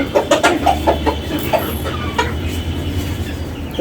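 Chickens and roosters clucking nearby in short bursts, set against a low rumbling hum.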